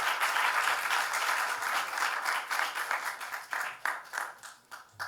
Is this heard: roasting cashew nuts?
no